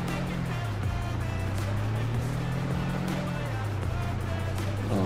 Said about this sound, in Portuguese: Ó, o trânsito lá, o povo fazendo trânsito, acidente lá.